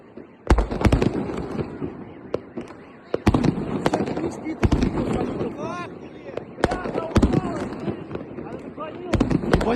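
Powerful New Year fireworks salute bursting outdoors in a snowstorm, sharp loud bangs at irregular intervals over a steady wind-blown roar and crackle, with people talking throughout.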